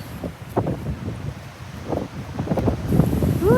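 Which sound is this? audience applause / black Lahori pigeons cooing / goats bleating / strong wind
strong wind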